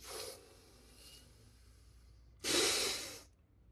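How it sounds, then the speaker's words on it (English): Deep breaths during a yoga breathing exercise: a short airy inhale at the start, a faint breath in the middle, then a loud, forceful rushing exhale lasting nearly a second, close to the microphone. "Take a deep breath again."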